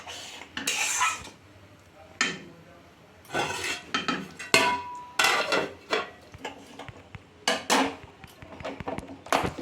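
A spoon scrapes and clatters against a pan as fennel-laced spices for Bengali prawn malai curry are stirred and fried, giving irregular bursts of close metallic knocks and scrapes with brief pauses between them.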